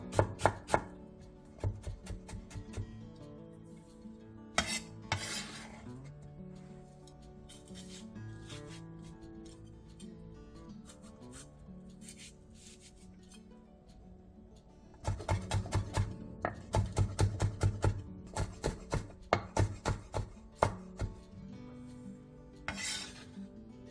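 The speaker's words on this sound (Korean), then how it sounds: "대파 2분의 1개, 당근 4분의 1개, 청양고추 2개, 청양 홍고추 2개도 양파와 비슷하게 잘게 잘라주세요" Knife chopping green onion, carrot and green and red chili peppers finely on a cutting board, in bursts of rapid, close, crisp taps, pausing midway before another fast run, with soft music playing underneath.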